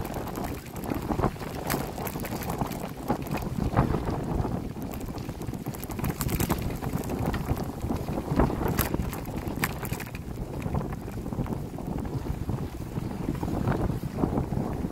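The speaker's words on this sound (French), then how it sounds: "il y a un vent contraire qui est costaud par moment" Strong headwind buffeting a microphone outdoors near water, a constant loud roaring rush with gusty swells and flutters running throughout, no voices.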